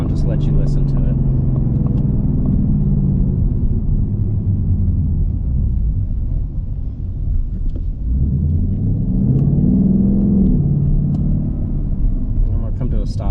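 Rumble from a 2021 Ford Mustang Mach 1 engine: a deep steady drone that dips, then climbs again as the revs rise, close and loud, with talk at moments.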